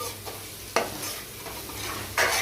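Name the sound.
stirring masala powder into frying mixture in pan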